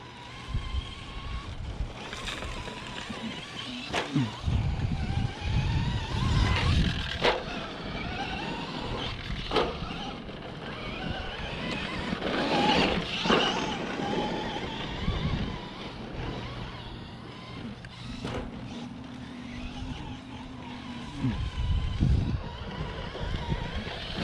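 An old Traxxas Stampede two-wheel-drive RC truck runs laps on a track, its electric motor whining and rising and falling as it accelerates and passes, moderately near over steady wind noise, with no talking.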